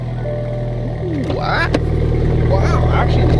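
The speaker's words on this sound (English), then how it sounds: "this is a cold start with ARK exhaust, stock downpipe" A Toyota Supra with an ARK Performance DT-S exhaust and stock downpipe cold-starts and idles in a loud, rumbling drone with rising revs, while someone talks over it.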